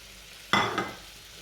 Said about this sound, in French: je vais venir ajouter les pommes de terre